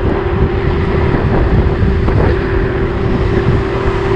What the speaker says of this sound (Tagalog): Grabing hangin to